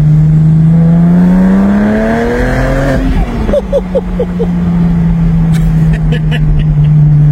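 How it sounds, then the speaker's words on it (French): A Porsche 996 Turbo Cabriolet revs hard, its engine note climbing then dropping back with a few crackling exhaust pops before settling into a steady, loud idle drone, with talking over the last part. "l'échappement fait beaucoup. c'est de la police, cet échappement, là."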